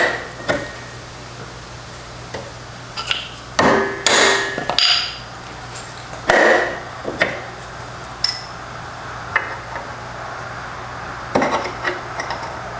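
A hammer strikes a chisel on a stuck part of a Honda Foreman 450 ATV, giving sharp metallic clanks at irregular intervals. Some come as quick clusters and others as single hits, over a low steady hum.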